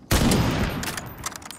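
Rapid gunfire bursts in the online shooter Ironsight, a loud volley of shots followed by quick weapon-switch clicks and a few sparser shots trailing off, with no talking.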